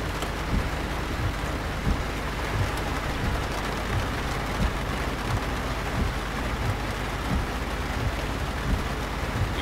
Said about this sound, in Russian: Я, наверное, сейчас плохо слышу, потому что дождь идет.